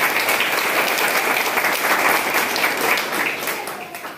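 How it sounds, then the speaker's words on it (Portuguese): A church congregation at a Mass with baptisms breaks into warm applause, a loud, dense, steady wash of clapping that holds throughout and eases off slightly at the end. "Vamos dar a calorosa salve de palmas para o Tyson."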